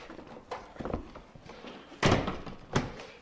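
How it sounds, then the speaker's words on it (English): Two solid thunks from a door shutting on a Polaris General 4-seat UTV fitted with a slide-in upper door, one heavy and close, then a lighter second knock, with softer handling knocks before them. "Now I'm actually gonna close the door"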